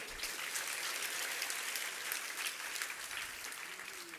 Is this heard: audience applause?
yes